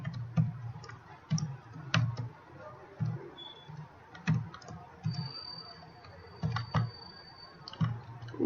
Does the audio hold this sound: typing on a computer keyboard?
yes